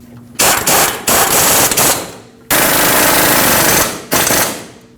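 An impact wrench drives in the brake caliper mounting bolts on a 2005-2021 Nissan Frontier 2WD, with four loud, close, rapid hammering bursts separated by brief pauses.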